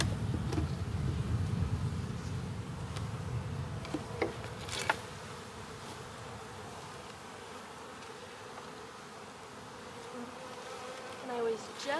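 Honeybees hum steadily around a backyard beehive as they crowd back inside, a dense close buzz that stays throughout, with a few individual bees droning past.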